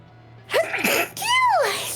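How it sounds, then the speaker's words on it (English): A person gives one loud, close sneeze, with a sharp burst after a brief intake, then a second voiced exhale as it fades, over a faint steady hum. "oh, don't sneeze, please."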